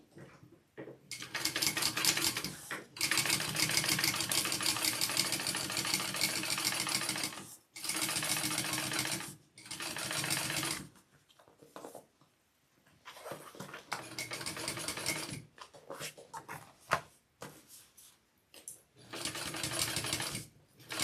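A home sewing machine stitches fabric in several bursts of steady whirring, some long and some short, with brief quiet pauses and light handling noises between runs.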